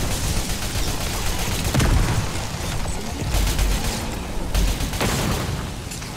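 Explosive blasts and booms from a grenade in the video game Crucible, with several heavy low thuds spread across dense, continuous battle noise.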